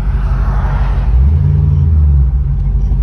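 A car pulls out into traffic and swings through a wide turn, its engine giving a steady low rumble that swells slightly mid-way, heard up close from inside the cabin with no talking.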